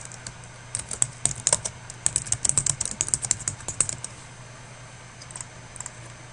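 Rapid keystrokes on a computer keyboard while entering a chart axis title in an Excel spreadsheet, close and crisp clicks in bursts that thin out toward the end, over a steady low hum.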